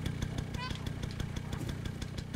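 A vehicle engine runs in the video game Stray, giving a steady, rhythmic, moderately quiet thrum of repeated beats with a short rising whine partway through.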